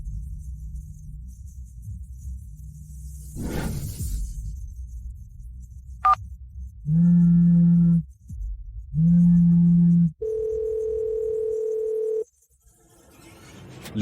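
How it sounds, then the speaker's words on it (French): A telephone rings indoors in a domestic drama scene: a few short, steady electronic tone bursts, then a longer sustained tone, loud and close against a low background hum, with no talking. "décroche le téléphone."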